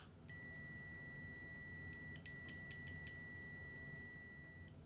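A BSIDE ACM91 multimeter in continuity mode emits a sustained high electronic beep at maximum volume, faint and steady over a quiet background, with a few brief clicks near the middle.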